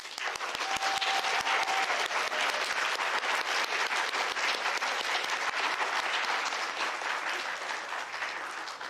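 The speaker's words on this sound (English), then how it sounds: "All right, now we can clap." An audience at a school awards chapel claps in a sustained, even round of applause, moderately distant and continuous from start to finish.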